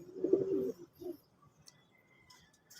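Domestic pigeons cooing nearby: one throaty rolling coo, then a shorter second call, fading into quiet background hiss.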